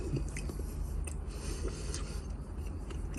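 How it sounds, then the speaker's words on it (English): Crisp pie pastry being bitten into and chewed up close, a dense crackle of crunching and mastication running steadily throughout with no talking. "You probably heard the crunch in the pastry."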